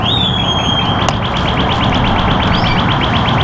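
Birds chirp outdoors in a steady run of quick, repeated high tweets with a few longer whistled calls, loud and close over a constant background hiss.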